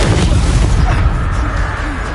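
Confringo fire spell exploding in the Hogwarts Legacy video game, a loud, dense, rumbling blast that fills the whole moment with a heavy low boom and then a sustained roar, with no voices.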